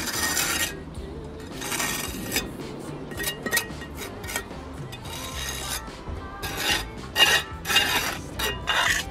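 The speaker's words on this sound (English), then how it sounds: "I'm just going to rake it out and point it up with black after." A trowel or raking tool scrapes mortar out of the joints of a decorative brick pier, making bursts of gritty rasping and scraping at close range that come and go, with faint clinks between the strokes.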